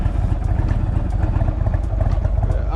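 A 2019 Indian Chieftain 116 motorcycle engine rumbling steadily at low revs, close and loud with a continuous throbbing clatter and no talking.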